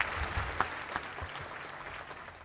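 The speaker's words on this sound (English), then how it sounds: "Please join me in a round of applause for these great patriots." Applause from an assembled crowd at a U.S. Army Materiel Command change of command ceremony, steady clapping at moderate distance with a few sharper claps, no speech over it.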